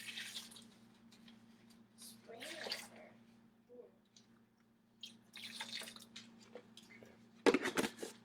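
Spring water splashes and trickles in short bursts into a blender, with a low steady hum underneath and a louder gush near the end.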